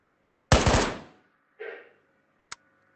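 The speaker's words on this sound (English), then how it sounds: "Aim the rifle at the target by lining up the sights, and squeeze your dominant hand trigger to fire" A rifle fires once in a Meta Quest VR shooting game, a sharp close burst followed by a shorter second report and a faint click, alone in a quiet space.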